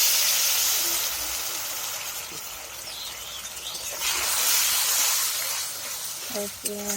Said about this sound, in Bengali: মশলাটা একটু ভেজে নেব